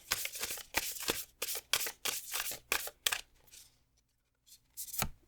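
An oracle card deck being shuffled by hand: a run of crisp riffling bursts in irregular rhythm, a short pause, then one final shuffle, close and alone.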